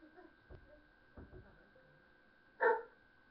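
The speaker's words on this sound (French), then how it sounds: "Ta gueule, le chien." A dog gives a single loud, sharp bark near the end, after a stretch of faint scattered sounds and low background noise.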